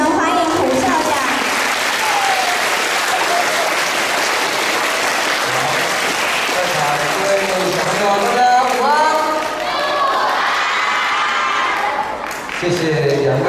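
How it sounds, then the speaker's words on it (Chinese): Audience applause welcoming a school principal at a sixth-grade graduation music recital, a steady, dense clapping that fills the hall throughout, with some voices heard over it toward the end. "请以热烈的掌声欢迎胡校长"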